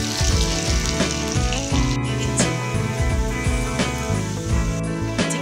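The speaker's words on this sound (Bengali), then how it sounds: "গোটা গরম মশলা তেলে দিয়ে দিচ্ছি" Whole garam masala spices dropped into hot oil for malai chicken, a close, lively sizzle and crackle that stays loud and busy throughout, with no talking.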